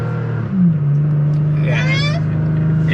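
A 2023 Toyota Tacoma TRD Pro's engine revs under load while towing in tow/haul mode, a loud steady droning hum with a rising pitch. The engine noise fills the cabin closely and continuously.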